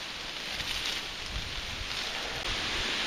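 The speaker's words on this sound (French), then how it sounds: "il pleut, il y a tempête" Rain and stormy wind fill a small forest with a steady, dense broadband wash that is fairly loud and close, blustery noise buffeting throughout with no talk.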